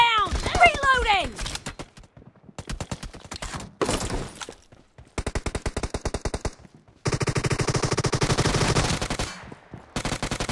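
Rapid automatic gunfire in the mobile shooter game PUBG Mobile comes in several sustained bursts separated by short gaps, loud and close, with game voice callouts over the shots.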